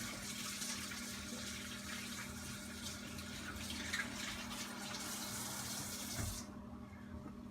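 Kitchen tap running steadily while a turkey is rinsed, faint and continuous with a low hum beneath, cutting off near the end.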